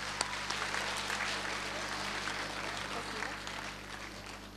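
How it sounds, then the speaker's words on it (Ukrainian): Audience applause at a talent-search gala concert as performers leave the stage, a continuous mass of clapping heard somewhat distantly over a steady low electrical hum. "Проводжаємо їх оплесками зі сцени."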